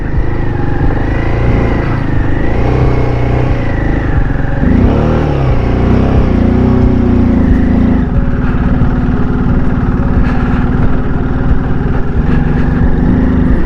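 A motorcycle engine labors loud and close on a rough, rocky mountain road in an Arunachal valley, revving and straining with clattering from the bumpy track, the pitch rising and falling as the bike climbs without pause.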